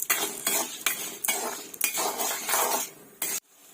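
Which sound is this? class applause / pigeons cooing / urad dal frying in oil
urad dal frying in oil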